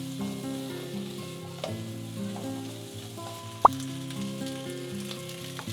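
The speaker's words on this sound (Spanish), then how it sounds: "Voy a agregar un poquito de aceite, ajo picado y voy a agregar los pimientos y la cebolla" Minced garlic, peppers and onion sizzle steadily in hot oil in a pan. A low tonal hum runs underneath, and a single clink of a utensil is heard partway through.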